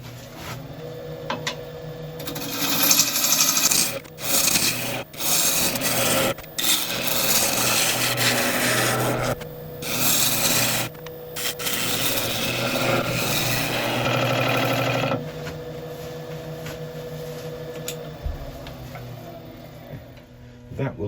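A gouge shapes the bottom half of a wooden bowl spinning on a woodturning lathe, producing loud, sustained scraping and rasping passes broken by short pauses, with a steady motor hum underneath.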